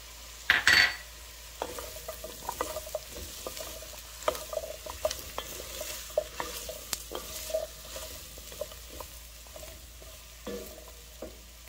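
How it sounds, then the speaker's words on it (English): A spoon stirs lentil soup seasoned with garlic and onion powder in a pot, making irregular soft scrapes and clinks over a faint sizzle, opening with a sharper clatter. "just mix that right inside and the garlic and onion powder"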